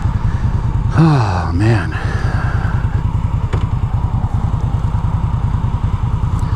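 A liquid-cooled 2016 Victory Octane motorcycle engine drones steadily and loudly while the bike is ridden along a road, with a rider's brief exclamation over it early on.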